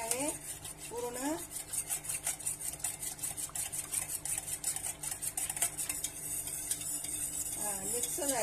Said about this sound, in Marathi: त्याकरता मी आता 1 चमच त्याच्यामध्ये दही टाकणार आहे। आणि असं हलवून घेणार आहे पूर्ण।